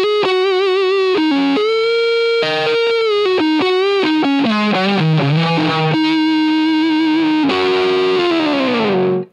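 Electric guitar through an Ibanez Tube Screamer 808 overdrive pedal plays a melodic lead with sustained, bent notes and fast runs, warm and gritty, loud and close, with no talking.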